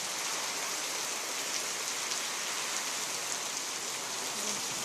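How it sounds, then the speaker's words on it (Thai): Heavy rain during a storm near a hillside with coconut palms, a dense constant hiss of downpour, loud and unbroken with no voices. "วันนี้ก็ฝนตกหนักมาก"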